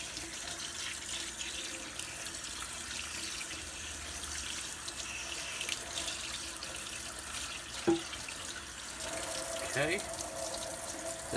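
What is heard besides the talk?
water from tap rinsing soap off engine cylinder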